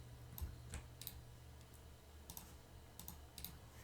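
Keys tapped on a computer keyboard while a command line is entered, quiet and close, in short irregular bursts of clicks with pauses between them.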